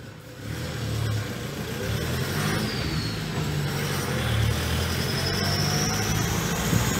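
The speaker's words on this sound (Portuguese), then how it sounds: "ela tá fazendo um barulhinho na turbina proveniente do conjunto rotativo" A 2006 Toyota Hilux engine runs with its turbocharger making noise from the rotating assembly, a rough low engine drone with faint rising whistles over it and no talking.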